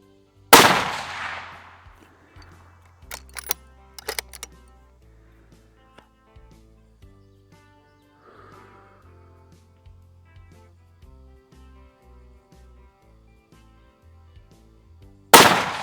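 A handgun fires at a shooting range: a loud, sharp close shot at the start, some quieter clicks and handling noises, then another sharp report at the very end.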